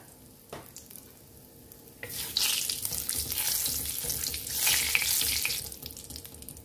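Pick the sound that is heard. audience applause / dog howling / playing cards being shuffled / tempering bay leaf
tempering bay leaf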